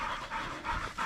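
Young hunting dog pups pant rapidly and steadily at close range during a pig hunt in thick scrub, a quick rhythmic breathy huffing with no talking.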